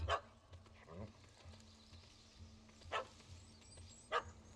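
A dog barks in The Witcher 3 video game, a few short separate barks spread over several seconds against a low ambient game background, moderately close.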